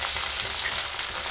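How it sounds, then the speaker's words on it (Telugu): Curry leaves and ginger garlic paste fry in a pan for a gourd tamarind curry, giving a steady, dense, close sizzle with a constant hiss and no gaps. "కరివేపాకు కూడా మంచిగా ఫ్రై అనేది చేసుకోవాలి మనము"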